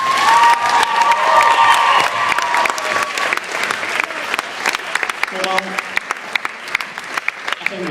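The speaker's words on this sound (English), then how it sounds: "A round of applause, please." Audience applause and cheering at an end-of-high-school celebration, loud sustained clapping with whoops and a high whistle early on, thinning into scattered individual claps at the end.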